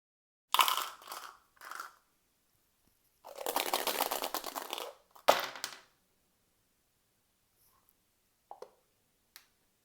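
Four dice are thrown by hand in quick bursts of rattling clatter, with a long tumbling roll in the middle and a few isolated soft clicks trailing off into quiet.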